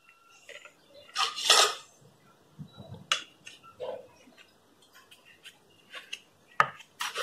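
A knife cuts through stacked bread sandwiches down the middle, making scattered crisp taps, scrapes and light clinks against a board or plate, close and fairly quiet, with no talking.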